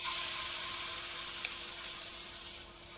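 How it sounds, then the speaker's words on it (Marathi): Batter spread on a hot, oiled griddle pan (tava), a soft, steady sizzle, fairly quiet and continuous, with one small tap partway through. "आता तवा गरम झालेला आहे आपला."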